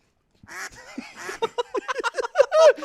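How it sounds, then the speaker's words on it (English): A duck quacking sound effect plays as a rapid run of about a dozen loud, close quacks that grow stronger toward the end, heard on its own after a brief silence. "You don't like the quacking every time you talk about"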